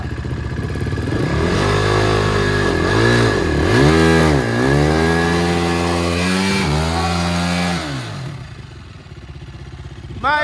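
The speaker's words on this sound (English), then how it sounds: "So, we tried to do a burnout." A KTM quad's engine revs hard and loud during a burnout attempt, rising and falling in repeated throttle bursts for about eight seconds, then dropping to a rough idle.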